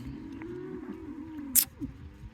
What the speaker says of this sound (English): A lot of dairy cows in this mob